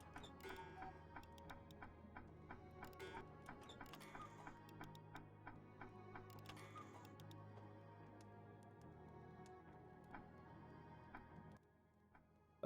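Steady mechanical tick-tock of a cuckoo clock in the video game We Were Here Together, evenly spaced clicks running throughout over a low hum, with brief bright chimes layered on top.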